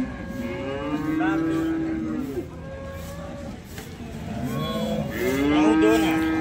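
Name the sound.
cow mooing at a cattle market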